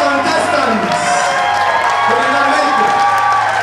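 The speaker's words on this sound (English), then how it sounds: "So with a round of applause, as they file off the stage, shall we give it up for our contestants?" Audience applause and cheering for pageant contestants filing off stage at a Miss Ghana Ireland event, a dense steady crowd roar with clapping and shouts held loud throughout.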